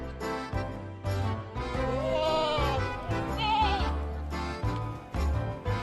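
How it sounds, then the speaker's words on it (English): A goat bleats in several long wavering calls, close and loud, on a farm in a children's animal sound guessing game, with a low musical backing underneath. "This is a goat. Goat says ma-a-ma."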